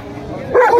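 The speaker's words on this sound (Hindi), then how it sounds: "इसलिए डॉग्स को भौंक रहे हैं।" Big dogs, including pit bulls and Siberian huskies, bark at an outdoor dog show in Faisalabad. A short loud bark or yip rises near the end, with a voice talking underneath.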